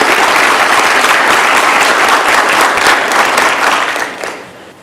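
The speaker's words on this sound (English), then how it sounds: "please give them a round of applause" A city council meeting breaks into sustained applause from a roomful of people, dense and even for about four seconds before tapering off, with no talk over it.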